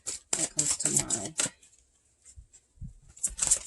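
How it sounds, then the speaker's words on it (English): Quick riffling bursts of cards being shuffled, a rapid flurry followed by quieter handling noises and another short shuffle near the end. "Try to shuffle a little on camera for you guys"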